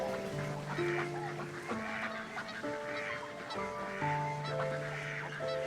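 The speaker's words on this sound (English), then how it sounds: "The colonies of thousands of wild ducks populate the pools of the park" Wild ducks and geese call from a flock on frozen park pools, steady overlapping honks and quacks forming a continuous chorus at moderate distance.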